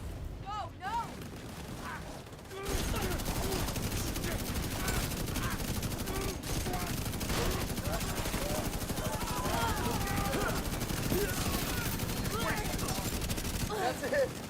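Rapid bursts of automatic gunfire from The Division 2 shooter game, dense crackling volleys running almost continuously after a quieter opening, with a voice talking over the shooting.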